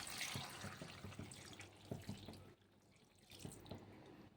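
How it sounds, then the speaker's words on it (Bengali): Hot water splashes and pours into a pot of country chicken curry with peas and fried potatoes, a steady close liquid rush with a short lull midway before the pouring picks up again. "আমি জল গরম করে রেখেছিলাম সেই জলটা দিয়ে দেব।"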